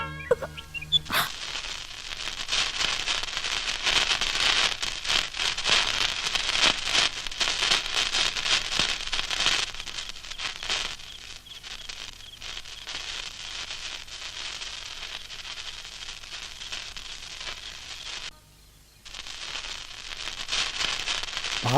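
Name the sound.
firecrackers bursting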